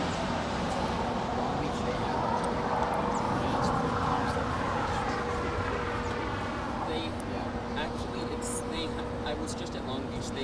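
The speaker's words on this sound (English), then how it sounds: "That is American Airlines Flight 2190 departing to Puerto Vallarta." An American Airlines Airbus A321 jet departs LAX with a steady, broad engine roar that holds for the whole stretch. Someone talks over the noise.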